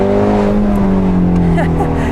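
Ford Mustang engine on a track, a loud, steady droning tone with strong harmonics, with speech briefly over it.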